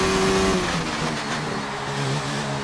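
A Williams Formula 1 car engine in F1 2019 drones steadily and close, a loud buzzing whine with slight pitch shifts that stays continuous throughout.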